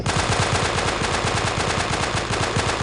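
Rapid automatic gunfire from the video game Alien BHD rattles on in a steady, loud stream of evenly spaced shots, continuous for a few seconds with no talking.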